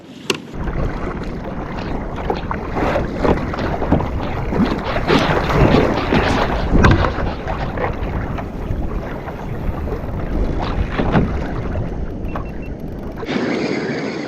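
Offshore kayak paddling on the sea off the Gold Coast while trolling dead baits, with repeated paddle strokes and splashes over constant wind noise, close and steady throughout.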